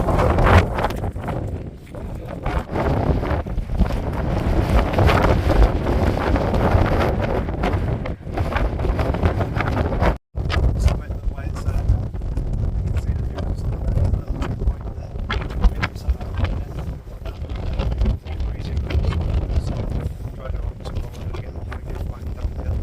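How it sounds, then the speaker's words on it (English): Cold wind gusting across a misty hilltop on Whernside in the Yorkshire Dales, buffeting loudly and continuously with roaring rumble and a brief drop partway through. "Cold and windy."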